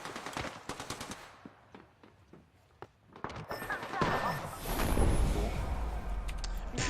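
Video game gunfire in scattered rapid bursts, sharp repeated cracks mixed with explosions and a swelling rumble of combat.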